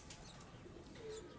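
Soft cooing from a breeder's pigeons drifts through a quiet, steady background, with a few faint chirps and no talk.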